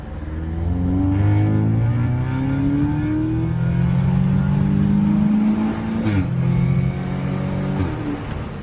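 Modified Audi S3 with an RS3 exhaust in dynamic manual mode on a public road, engine climbing loudly through the revs, then sharp crackling downshifts as it slows, heard from inside the car.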